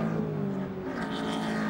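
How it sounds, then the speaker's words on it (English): A turbocharged Lotus Elise race car whistles past at Brands Hatch, its engine note rising briefly over a steady drone, fairly distant and moderately loud. "Sean Bicknell's turbo car whistles past us"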